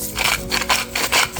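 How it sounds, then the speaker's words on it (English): A salt grinder turns quickly over a chicken and dumplings dish, giving a close, rhythmic gritty rasp in rapid bursts with no speech. "This grinder really comes out fast, so mix that up."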